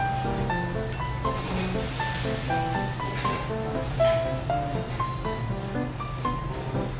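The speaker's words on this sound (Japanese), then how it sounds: "野菜を炒めてる音が聞こえてくる" Vegetables stir-frying in a pan give a steady, even sizzle that runs throughout, with background music playing over it.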